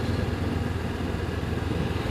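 A Honda CB500X's 500 cc twin-cylinder motorcycle engine running at a steady, close, fairly loud rumble for about two seconds, with no voices over it.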